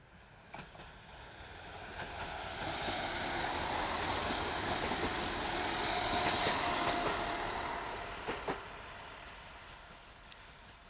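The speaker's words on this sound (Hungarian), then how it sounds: "És jön egy vonat." A train rumbles closer, swells to a broad roar as it passes, then fades away, with faint rail clatter and a few sharp clicks.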